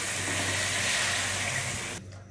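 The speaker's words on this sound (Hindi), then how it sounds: "इसमें पानी डालना शुरू करती हूँ" Water pours steadily into soaked rice for chicken pulao, a loud continuous rushing splash that stops abruptly near the end, with no talking.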